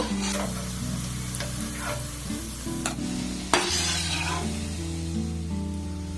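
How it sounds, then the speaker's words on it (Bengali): Langcha sweets fry in hot oil with a steady broadband sizzle, joined by a sharp knock near the middle and low tonal hum from a nearby appliance throughout; no voices. "আর একইভাবে সবগুলো মিষ্টিগুলোকে আমি ভেজে নেবো"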